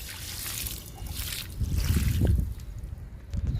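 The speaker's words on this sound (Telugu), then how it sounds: "వాటర్ ఇచ్చేద్దాము." Water splashes and trickles onto soil around a ridge gourd plant, swelling briefly in the middle, then tapering into lighter splashes, close by and with no talking.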